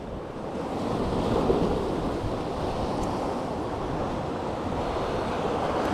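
Strong wind gusting across a seaside fishing spot, a loud steady buffeting rush against the microphone blended with the wash of surf, continuous without voices.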